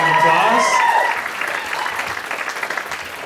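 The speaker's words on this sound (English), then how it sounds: "Round of applause." An audience at a panel event breaks into strong applause, a dense wash of clapping that eases off but continues, with a voice speaking over the start.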